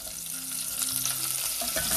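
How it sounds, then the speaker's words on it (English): Onions, green chilies and crushed garlic sauté in a hot pan, a steady close sizzle running through the whole stretch with a few stirring scrapes near the end. "Saute them till they get little translucent."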